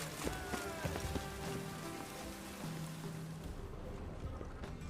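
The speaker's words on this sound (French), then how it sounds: "Il pleut là, hein. C'est pas agréable." Steady rainfall in The Witcher 3, a soft even hiss of drops spread across the whole stretch, fairly faint, with low tonal game ambience and a few light knocks beneath it.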